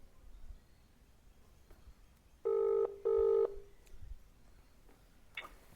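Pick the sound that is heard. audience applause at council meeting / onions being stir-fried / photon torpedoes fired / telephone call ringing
telephone call ringing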